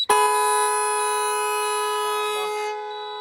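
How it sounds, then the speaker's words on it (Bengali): A loud horn on a new 2025-model vehicle blares in one long, steady, buzzy blast lasting a few seconds before cutting off, with a faint voice briefly underneath. "হর্নের আছে এটা প্রচুর আওয়াজ"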